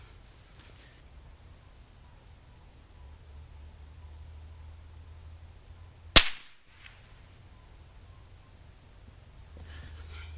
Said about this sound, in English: I'm going to readjust and fire one more